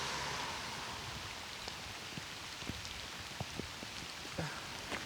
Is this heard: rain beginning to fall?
yes